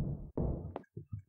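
A locked bedroom door in the horror game Granny is tried, giving a quick series of dull knocking rattles, two heavier bursts followed by lighter taps, close and fairly quiet.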